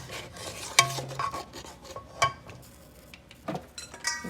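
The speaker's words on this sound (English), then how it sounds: "Let me just mix it in and stir it out." Coconut milk being stirred into curry shrimp in a pot, with scattered soft scrapes and light clinks of a utensil against the pot, close and fairly quiet.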